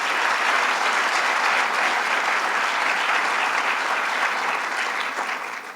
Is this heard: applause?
yes